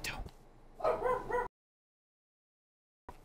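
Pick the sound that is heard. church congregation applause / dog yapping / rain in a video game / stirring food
dog yapping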